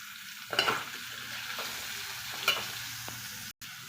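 Drumstick (moringa) pieces go into a pan of softened onions with turmeric and get stirred, giving a low steady sizzle broken by a few sharp scrapes of the spoon. There is no speech.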